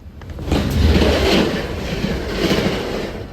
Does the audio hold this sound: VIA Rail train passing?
yes